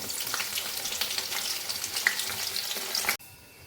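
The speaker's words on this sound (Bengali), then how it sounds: "এই যে পকোড়াগুলো এখন ভাজছি" Steady, dense crackle of chicken pakoras deep frying in hot oil, loud and close, cutting off abruptly near the end.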